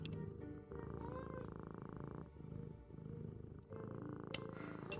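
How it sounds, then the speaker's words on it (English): A cat purrs in the Nancy Drew: Mystery of the Seven Keys video game, a steady, rhythmic low rumble with brief pauses between breaths, quiet and close, with no talk over it. "I knew there was a kitty back there."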